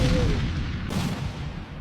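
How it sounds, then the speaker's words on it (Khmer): A blast near the Cambodia–Thailand border, suspected to be a landmine going off, comes through as a continuous low, rumbling roar. The noise is loud and broadband across the whole stretch, and no voices are heard. "សំលេងផ្ទុះស្អីទៀតហើយនឹង"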